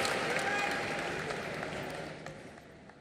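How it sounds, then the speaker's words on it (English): Audience applause at a film festival closing ceremony in a large hall, a broad steady wash of clapping that slowly fades, with a voice speaking over it. "Round of applause"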